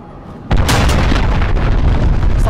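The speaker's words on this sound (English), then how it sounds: "Allied cruise missile launched." A cruise missile strike in Call of Duty: Modern Warfare lands as a sudden loud boom after a half-second of quiet, followed by a sustained rumbling roar of explosions.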